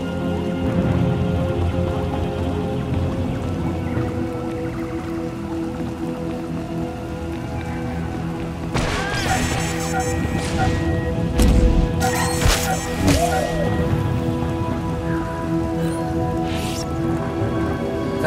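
Steady, dense rain pours through a storm in Star Wars: The Old Republic, a continuous close wash with a few louder bursts and crashes near the middle.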